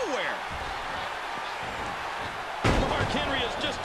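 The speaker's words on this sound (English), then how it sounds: "Barrett then slams him back against the floor." A wrestler is slammed onto the arena floor in WWE 2K14, a sharp heavy impact near the end of a busy broadcast mix with steady crowd noise and commentary running underneath.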